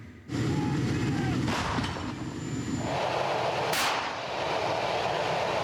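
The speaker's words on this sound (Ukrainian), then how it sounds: "а потім починає працювати гармата панцерника" A sustained loud rumble of a tank's main gun firing from inside the tank, with a sharp blast burst near the end over constant engine roar.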